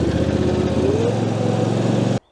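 A lawn tractor's engine runs at a steady, loud drone while cutting grass, holding an even pitch close by before cutting off abruptly at the end.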